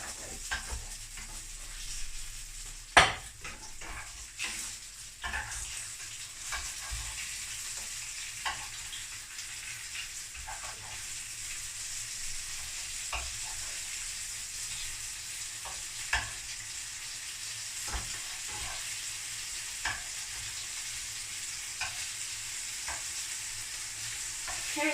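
Cheese frying in a pan on the stove gives a steady sizzle with scattered pops and crackles, and a sharp clatter near the start, with no talking.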